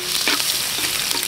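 Garlic added to a pan after ginger for curry, giving a short, close, steady hiss of frying oil.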